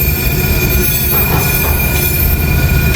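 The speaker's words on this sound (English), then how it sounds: "Looks like we might have DPU coming." A freight train with a distributed power unit locomotive rolls past close by, a loud steady rumble of wagons with metallic wheel squeal ringing over it.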